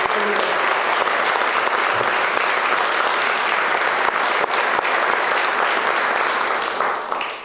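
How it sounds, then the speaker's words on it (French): Sustained applause from an audience at a French mayor's inauguration ceremony in Digoin, loud and steady for several seconds before tapering off at the end. "je vous demande d'applaudir mes deux collègues du conseil départemental."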